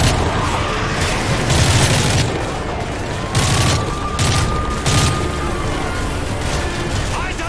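Gunfire and heavy booms from a Modern Warfare 3 battle fill the scene loudly and continuously, with repeated bursts and a sustained dense roar, while speech is mixed in.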